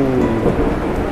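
Low rumbling thunder rolls continuously beneath a steady wash of rain during a rainstorm, loud and close, with no voices.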